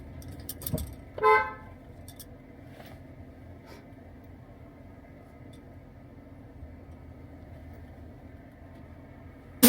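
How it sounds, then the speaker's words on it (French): A single short car horn toot at a gate in Kigali, sounding once early on, then quiet surroundings with a faint low background hum. "faire un petit coup de klaxon"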